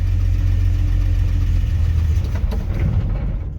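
A cold car engine runs at a steady, loud idle after starting, with a strong low rumble throughout and no talking.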